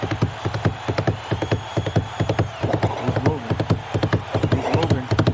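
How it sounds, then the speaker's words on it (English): Horse hooves clip-clop at a steady walking rhythm in the NBA 2K basketball video game, clear, close and evenly spaced across the whole stretch. "Is that the horse?"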